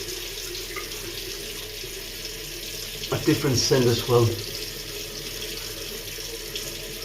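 A bathroom tap runs into a sink as a face is wetted for a shave, a steady faint stream with a brief splashing burst in the middle, while someone talks quietly.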